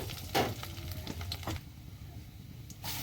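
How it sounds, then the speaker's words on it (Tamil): Curry leaves frying in sesame oil in a pan, a close crackling sizzle with sharp pops and a steady hiss that settles to a quieter fizz, with no talk. "கறி வடத்தை கொஞ்சம் போட்டுக்குவோம். நல்லா பொரியல்."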